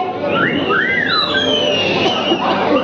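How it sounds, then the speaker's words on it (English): At a perfume launch event, an audience gives several shrill whistles, rising and falling sweeps that overlap on top of loud crowd noise, with a voice heard faintly beneath. "Can we have some whistles for Aisha?"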